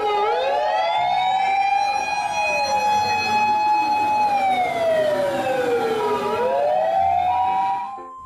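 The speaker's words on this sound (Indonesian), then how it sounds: "Di sini ada mobil pemadam kebakaran." A toy fire truck's siren wails, sweeping up and down in pitch continuously, loud and close, with several layered electronic tones before cutting off at the end.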